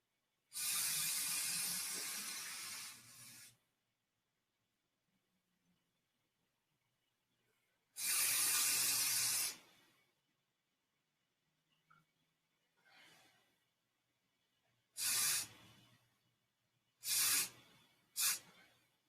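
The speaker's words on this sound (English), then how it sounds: "Do another coating of paint on the handle." Spray paint hissing onto a handle in five separate bursts, the first two long and steady, the last three short and quick, each loud and close with quiet pauses between and no voices.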